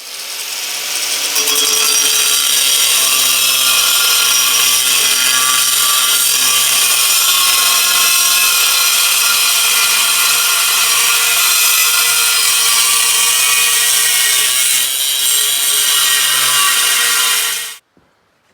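Power saw cutting through material to make a replacement piece while rebuilding the track of a 2005 Lynx V1300 Bombardier snowmobile: a loud, steady cutting whine running continuously for about seventeen seconds, then stopping abruptly.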